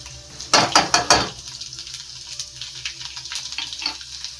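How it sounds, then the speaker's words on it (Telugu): Tempering spices such as cumin sizzling in hot oil for tamarind chutney, with a burst of sharp crackles and pops early on followed by quieter scattered sizzling and utensil clinks. "చూడండి, పోపు చేస్తున్నా."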